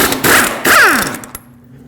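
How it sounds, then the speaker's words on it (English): An impact gun spins lug nuts off the rear wheel of a 2006-2015 Lexus IS250 in two loud, close, buzzing bursts, each winding down as the nut frees. "I'm just going to take all of them off with my socket and impact gun"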